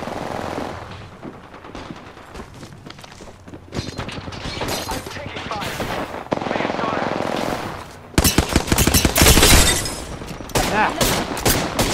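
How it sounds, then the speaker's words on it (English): Heavy automatic gunfire in the Apex Legends arena, dense rattling bursts that swell louder toward the end, with a player's voice talking over the shooting. "taking fire"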